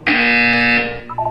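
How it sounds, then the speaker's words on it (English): A loud, harsh electronic buzzer from the video game Portal 2 sounds as one sustained blast lasting most of a second, then cuts off into a few short trailing tones, with no talking over it. "When you hear the buzzer, look down at the floor."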